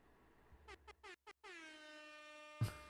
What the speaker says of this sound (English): Get the air horn going.